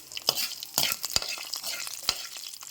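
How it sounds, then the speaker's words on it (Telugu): Spices with black pepper crackle and sizzle in hot oil for tempering, with sharp pops and a utensil stirring in a pan, close up and fairly quiet. "తాలింపు పెట్టుకోండి తాలింపులో మిరియాలు కూడా యాడ్ చేసుకోండి"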